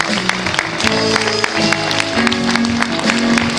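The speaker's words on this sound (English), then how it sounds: "Give a round of applause." Cruise ship audience applauding the hardworking staff aboard the Regent Seven Seas Voyager, a dense, steady wash of many hands clapping throughout, with faint music playing underneath.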